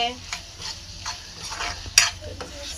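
Mutton fry being stirred in a sizzling pan, with a steady frying hiss and scraping spoon strokes, plus one sharp metallic clink near the end. Close, with no talk.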